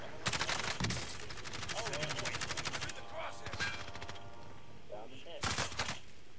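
Video game gunfire crackles in rapid bursts at the start, then a rattling automatic volley, fading to quieter battle noise before another sharp burst near the end, with brief voice cues mixed in.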